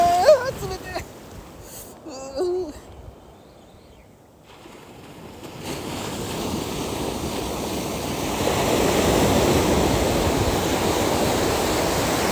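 Surf breaks and washes on Kashimanada beach, the rush of water building from a quiet lull into a broad, loud, steady roar, with a person's voice heard briefly at the start.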